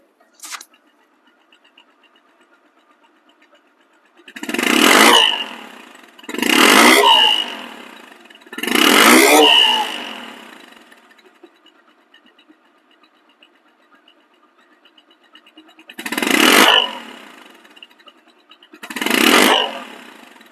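A Discover 135cc motorcycle engine with its original sound revs up five times in separate bursts, each throaty roar swelling and fading back to a low idle between them.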